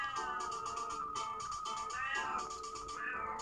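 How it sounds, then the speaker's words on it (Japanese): A cat in heat cries on and off all day, its wavering meows sounding through a steady tonal background, moderately loud and continuous for a few seconds. "朝から晩までずっと泣きわめくんですよ、猫が。"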